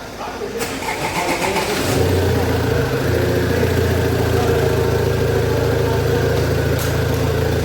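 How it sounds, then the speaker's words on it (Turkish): An Opel Vivaro van's engine cranks and catches, settling into a loud, steady idle after about two seconds; voices talk over the starter and running engine. "Bas marşa!"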